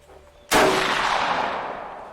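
A single gunshot cracks loudly outdoors at a shooting session, its sharp onset followed by a long, slowly fading echo rolling over the open ground.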